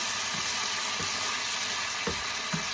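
Nachos topped with shredded cheese cook on low heat in a pan, giving a steady soft sizzle with a few faint clicks and stirring taps, close and quiet, with no talking.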